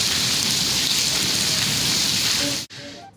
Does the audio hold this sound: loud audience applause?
no